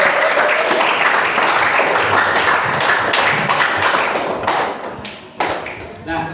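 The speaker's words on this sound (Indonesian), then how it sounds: "tepuk tangan dulu untuk kita semua" Classroom participants in a coaching session clap together, a bright busy patter that stays steady for several seconds, then thins and dies away into scattered taps and murmuring voices.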